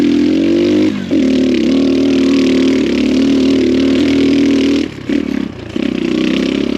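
An X Pro Storm 150 DLX ultralight dual sport motorcycle rides a rocky trail, its small engine droning loud and steady close by, with brief dips around one and five seconds as the throttle eases, and gravel rattle under the motor.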